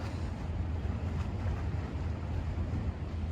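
Boats motoring slowly past at Riviera Beach, Florida, a steady low engine rumble with wind and water wash throughout, fairly close and continuous.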